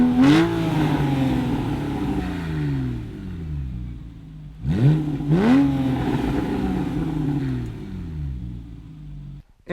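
Loud, close revving from a Porsche 911 Carrera S in sport mode with a TechArt exhaust: a sharp rev at the start, then two quick rising blips midway, each dropping back to a throaty idle before a short clatter at the end.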